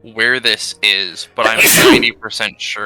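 A single loud, close sneeze bursts out in the middle of a man's speech, with talking before and after it.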